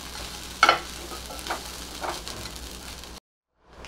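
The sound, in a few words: sautéing masala ingredients in a pan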